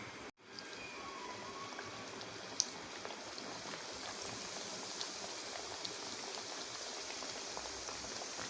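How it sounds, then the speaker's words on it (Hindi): Donuts frying in hot oil, a quiet steady bubbling crackle and sizzle that continues for the whole stretch, close by with no talking. "इसी तरह मैं बाकी सारे भी फ्राई करती"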